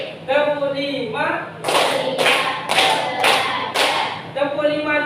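Students in a classroom clap together five times in an even, steady beat, the crisp unison claps framed by group chanting voices at the start and end.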